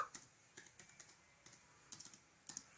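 Fingers type a footnote's text into MS Word on a computer keyboard, giving a close, quiet series of uneven key clicks in short bursts with brief pauses, and no one talks.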